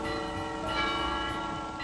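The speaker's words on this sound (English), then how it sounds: "the bells are ringing. In small country churches, in towering cathedrals" Church bells ring with bright, sustained metallic tones and overlapping strikes, resonant and fairly steady, heard alone with no voices.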